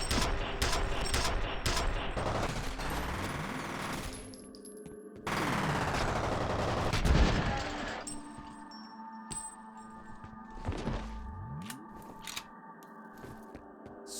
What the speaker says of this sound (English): the penetrator is such a cool fucking weapon